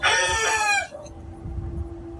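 A rooster crows loudly and close in one long strained call, then chickens cluck quietly nearby over a faint steady hum.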